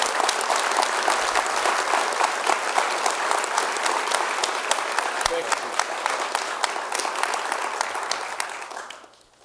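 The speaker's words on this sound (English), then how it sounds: "One more big round of applause for the Festus football Tigers." A large audience claps steadily in sustained applause for the Festus football Tigers at a fall Dream Team awards event, dense and even throughout before tapering off at the very end.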